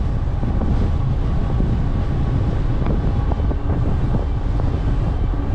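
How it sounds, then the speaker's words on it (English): Strong gusty wind buffets the microphone while riding an e-bike, a loud continuous low rumble with no voices. "I would not want to be riding a regular bike against this wind."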